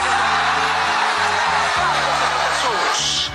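Church congregation shouting loudly during a Christmas prayer service, a dense sustained roar of many voices with a musical backing underneath throughout.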